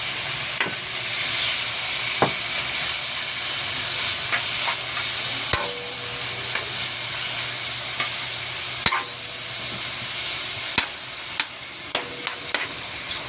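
Meat goes into a pan of frying tomatoes, bringing a steady sizzle with scattered clicks and scrapes of stirring, no talking, for a mung bean vegetable dish.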